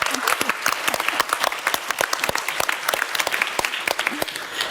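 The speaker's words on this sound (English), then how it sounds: "can we get an applause also, please, for Maggie and Heike" An audience at a panel discussion applauds with dense, continuous clapping that stays loud and even, and a voice may come through faintly underneath.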